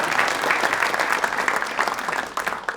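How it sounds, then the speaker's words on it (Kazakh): A crowd at a Kazakh-language stand-up comedy show breaks into loud, dense applause that fills the room and holds steady before starting to thin out. "Бір шапалақ соғып жүрейікші, пожалуйста."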